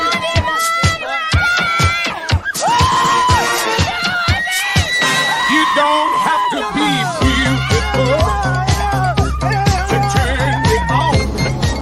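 Roadside cycling fans on the Alpe d'Huez climb of the Tour de France shout, whoop and cheer loudly near the microphone, with music and a pulsing beat joining in partway through.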